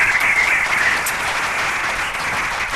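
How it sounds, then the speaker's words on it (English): An audience at a producers' panel event gives a round of applause, loud, dense clapping filling the room from start to finish. "Let's give Carl a round of applause"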